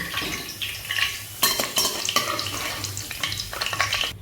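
Vegetables shallow-fry in oil in a pan, with a steady background sizzle broken by clattering utensil scrapes and knocks as pieces are moved and lifted out, close and without talking.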